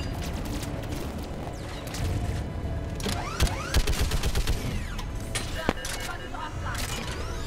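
Turret gunfire in the Mass Effect 3 video game, a dense rapid stream of shots and booms over a rumbling battle background, with a voice speaking over the loud, continuous barrage.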